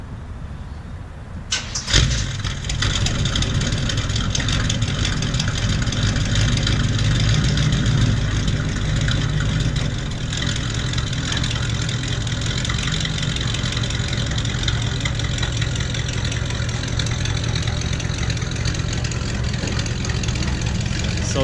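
A 1963 Ford F100 unibody truck engine cranks and catches after a short pause, then settles into a steady, loud, close idle that runs on with a slight dip in level partway through.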